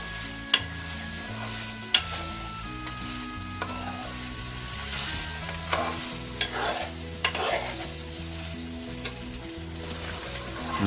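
Meat and spices for degi aloo gosht fry and get stirred in a pot, with a steady sizzle and sharp periodic clacks and scrapes of the spoon against the metal, close and fairly loud, and no talk.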